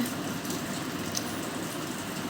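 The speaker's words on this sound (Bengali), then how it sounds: "অনেক বৃষ্টি হচ্ছে" Heavy rain falls in a dense, steady hiss and patter that holds constant and fairly loud without any break.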